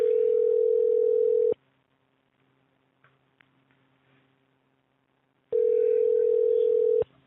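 Steady telephone dial tone after a disconnected call, loud and continuous for about a second and a half, then a quiet gap with faint rustling, then the same tone returning just as loud.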